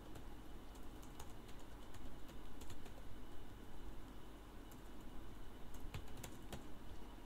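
Quiet, steady tapping on a computer keyboard as a title is typed, with scattered sharper key clicks and faint pigeon coos in the background.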